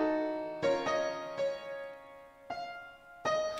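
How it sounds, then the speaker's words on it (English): Piano chords from a song mix, struck one at a time with ringing, somewhat distant sustain between each hit, playing alone without other instruments or voices. "if you pay attention to this piano here,"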